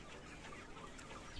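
Free-range chickens cluck in a poultry shed where around 500 birds perch on bamboo poles, a steady mass of clucking close by with no voices over it.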